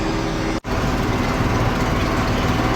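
A Massey Ferguson 4900 tractor engine with a leaking exhaust manifold gasket runs steadily up close, a continuous loud drone with a sharp break near the start.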